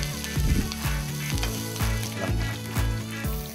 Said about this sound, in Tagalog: Sa parehong kawali, igigisa ang bawang, luyang dilaw, sibuyas, luyang puti,